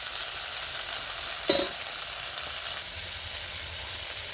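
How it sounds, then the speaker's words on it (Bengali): Green beans fry in a pan with a steady, even sizzle throughout, broken by one brief clatter of stirring near the middle; no one speaks. "শিম ভাজতে বেশিক্ষণ সময় লাগে না"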